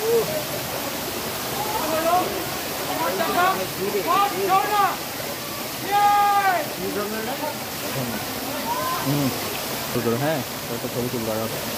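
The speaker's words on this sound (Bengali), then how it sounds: "ঝর্ণার পানি পড়তেছে" Steady rushing hiss of water pouring down a waterfall in the Sajek Valley, filling the whole scene, with people talking over it.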